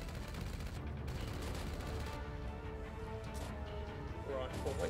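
Gunfire in the video game Carnivore Land, with dense bursts of shots and rattling volleys running throughout while someone talks loudly over them.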